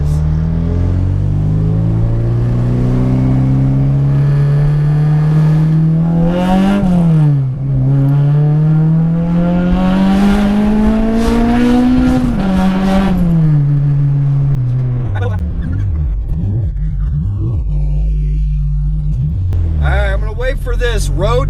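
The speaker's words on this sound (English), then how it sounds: "I want to see how well you can hear the engine sound with the mic inside the car, but with the windows up." A Honda K24 VTEC engine, heard from a mic inside the car with the windows up, pulls hard through the gears, its pitch climbing steadily and dropping at each shift.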